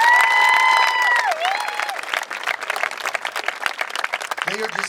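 A school audience gives a sustained round of applause and cheering for three students, the dense clapping steady and loud, with a brief tonal voice at the start.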